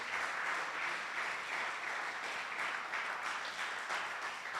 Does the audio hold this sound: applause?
yes